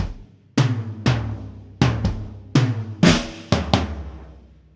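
Drum kit toms, high and middle then a flam followed by two low tom hits, each stroke sharp and ringing out, about eight spaced hits, close and alone.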